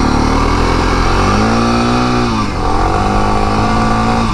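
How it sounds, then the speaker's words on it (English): A dual-sport motorcycle engine, a Suzuki DR650 or Tenere 700, revs loudly and close by, its pitch climbing, dipping briefly and rising again in a steady throttled drone with no talk. "riding new bikes, you don't want to be hopping on them and pinning the throttle"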